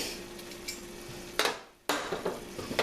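Cheddar cheese being stirred into a stuffed pepper filling of softened vegetables in a pan, with soft scraping and stirring under a light sizzle, a couple of louder scrapes and a brief pause, close up.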